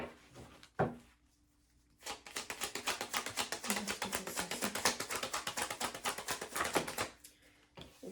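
Tarot cards being reshuffled make a rapid burst of dense flicking clicks after a single sharp tap. The cascade runs for several seconds, then stops and is followed by another soft tap.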